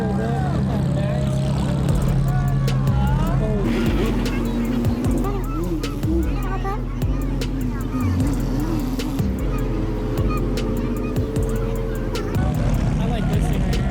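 Supercars idle and rev at a car meet, a close, loud, rumbling engine drone with rising and falling rev sweeps and pops, while people talk over it.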